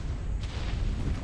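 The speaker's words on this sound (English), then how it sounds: "Explosions, never a good sign." Deep rumbling explosions boom continuously in the game ARK, a heavy low-frequency roar with a sharper burst near the start, steady and loud without any voices.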